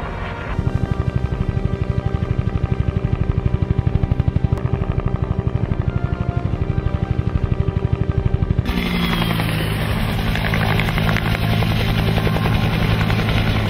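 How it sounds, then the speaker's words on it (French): A DGRE helicopter's rotor thumps in a rapid, steady pulse, loud and close, then shifts to a smoother whining engine roar as it passes overhead. "L'hélicoptère de la DGRE effectue un survol du ciel"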